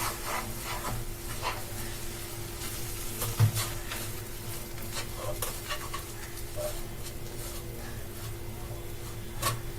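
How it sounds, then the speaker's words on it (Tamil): Rice flour is stirred into hot water in a pan on a stove at low heat, producing soft, steady scraping and rubbing strokes with a faint sizzle beneath, quiet and close, with no talking. "அதை வந்து இதுல போட்டுட்டு நம்ம நல்லா மிக்ஸ் பண்ணிக்கலாம்."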